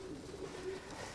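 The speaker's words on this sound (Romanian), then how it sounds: "E un porumbel foarte tânăr" Very young racing pigeon cooing close by, a soft low throaty warble repeated over a second amid faint background noise.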